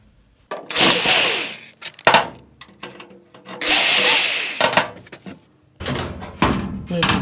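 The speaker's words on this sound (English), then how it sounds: "We're going to go ahead and take the screws off the bottom first." Screws being driven out of the bottom of a microwave being scrapped, with bursts of a power driver whirring in short loud runs separated by pauses and small clatters, close up.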